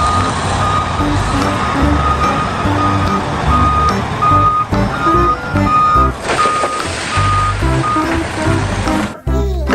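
A toy wheel loader gives off steady, loud reversing beeps that repeat in a regular rhythm over a whirring motor hum. The sound runs almost without a break and cuts off abruptly near the end.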